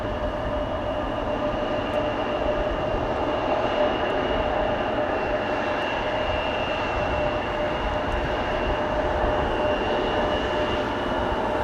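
An Embraer jet bound for Belgrade rolls down the runway and takes off at Amsterdam Schiphol, a sustained loud engine roar with a steady whine, continuous and unbroken.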